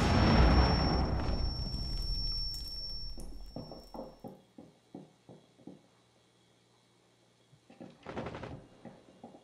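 Grenade explosion in Rainbow Six Siege, a loud, close, broad boom that decays over several seconds, followed by a series of lighter, evenly spaced thuds and a later sharp burst.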